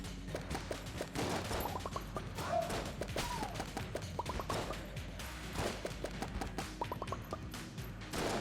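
Rapid gunfire in the video game Enter the Gungeon crackles in dense bursts throughout, mixed with thuds and impacts over a busy, continuous game soundtrack.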